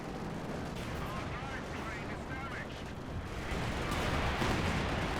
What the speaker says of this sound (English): Air support coming in clutch.